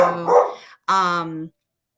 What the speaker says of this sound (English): I love dogs barking.